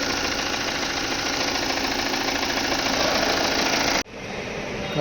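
A Volvo XC60 engine with connecting rod knock runs loud and steady, a rapid rhythmic knocking churning under the drone before it abruptly cuts off near the end and a quieter hum resumes.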